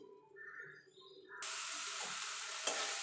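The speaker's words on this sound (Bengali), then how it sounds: "এবার মশলাটাকে ভালো করে কষিয়ে নেব যতক্ষণ মশলা থেকে তেল না ছেড়ে আসবে।" Spice paste for rohu fish kalia frying in oil in a pan, starting as a quiet stir and then breaking into a loud, steady sizzle that holds without pause, with no voices.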